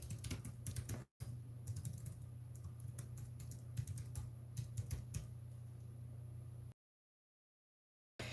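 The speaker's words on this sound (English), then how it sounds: "I'll type it in the chat for you." Quiet, steady clatter of keystrokes on a computer keyboard, with a low background hum under the typing. It stops briefly near the start and falls silent toward the end, with no voices.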